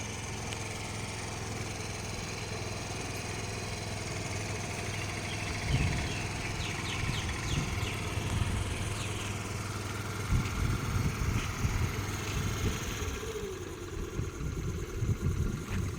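A scooter engine idles with a low steady drone while a learner rider slowly releases the brake and gives gentle throttle, producing a few soft bursts of rising engine noise outdoors.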